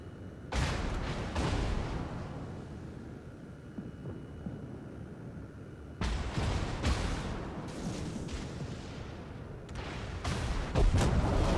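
Naval guns booming from warships in World of Warships, with repeated heavy salvos and rumbling reports over a steady low engine and sea drone, growing denser and louder toward the end.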